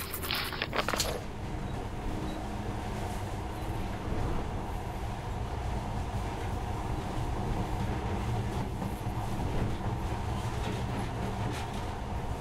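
Monorail train from the video game Metro: Last Light Redux runs steadily for the whole stretch, a continuous low rumble with faint rattling and clinking on top, no voices.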